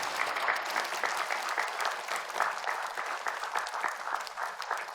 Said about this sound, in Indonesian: Yuk kita sambut Pak Ustadz, ibu-ibu dengan tepuk tangan boleh